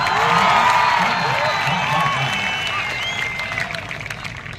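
Audience at a Hindi poetry recital (kavi sammelan) in Gulabpura breaks into loud applause and cheering mixed with shouts and voices, gradually tapering toward the end.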